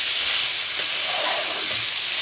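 Chicken tikka meat frying on a high flame, a steady bright hiss and sizzle throughout with no talking.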